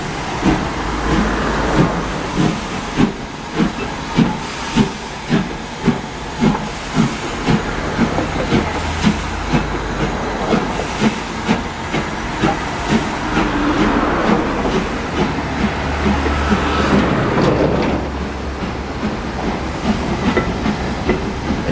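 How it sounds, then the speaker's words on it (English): A steam train passes through trees near Pickering, North Yorkshire, heard fairly close and loud, with a rhythmic clickety-clack of wheels over rail joints and a continuous hiss and rumble that swells and fades as it goes by. "We just heard a steam train going, so we're going to watch the steam train through the trees."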